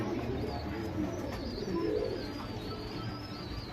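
A male Kathangalli pigeon coos softly and faintly at a distance within a continuous low background noise, with a few light chirps from birds mixed in.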